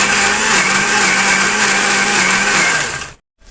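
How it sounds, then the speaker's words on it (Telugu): A mixie grinds fried onion with tamarind and chilli powder for fish curry, a loud close whirring motor that runs steadily and then cuts off abruptly near the end. "ఇట్లా మిక్సీ పట్టుకోవాలి."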